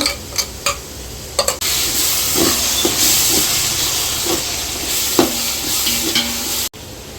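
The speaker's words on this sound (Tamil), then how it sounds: "இஞ்சி பூண்டு பேஸ்ட்டு போட்டுடுறேங்க." Ginger garlic paste fries in a pan while making mutton biryani, starting after a few light clicks and then giving a steady, loud sizzle with intermittent scrapes of stirring.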